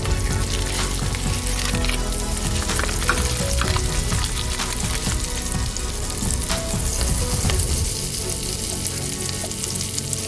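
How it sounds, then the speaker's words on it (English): Butter in a frying pan sizzles loud and continuous, a dense crackling hiss with occasional pops and faint clatter, heard alone without talk. "I'm going to put a little butter in the pan"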